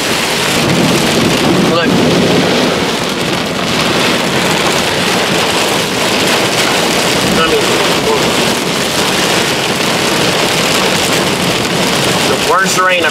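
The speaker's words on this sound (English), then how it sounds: "the worst rain I've ever been in my life." Heavy downpour in a thunderstorm with flooding in Pigeon Forge, a dense, steady roar of rain on surfaces lasting throughout, with a brief crack partway in and someone talking over it.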